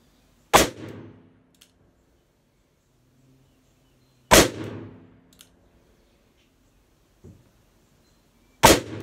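A new 2020 Colt Python revolver fires Winchester .357 Magnum 158-grain jacketed hollow point rounds single action: three loud, sharp reports about four seconds apart, each with a ringing decay, and quiet between them.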